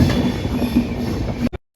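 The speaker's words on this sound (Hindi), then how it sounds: "तो यहाँ पर ट्रेन लाइन चेंज करती हुई" A rapid rail train on the Meerut–Delhi RRTS line rumbles while switching tracks, a loud, close, continuous rolling roar with faint rhythmic clatter that cuts out abruptly near the end.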